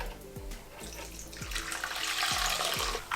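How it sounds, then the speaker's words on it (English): Homemade plant milk strains through a well-used nut milk bag, giving a soft, continuous trickle of liquid that grows slightly fuller, with faint low knocks at regular intervals underneath, quiet and close. "So this is just to strain the milk and get the solid pieces out."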